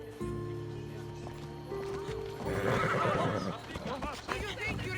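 In Assassin's Creed Odyssey, a horse whinnies loudly and close over a droning game soundscape, followed by clip-clopping hooves trotting along a road.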